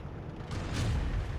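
A tank cannon fires in the video game Tank Company, a single deep, heavy boom that swells midway and rumbles on for under a second.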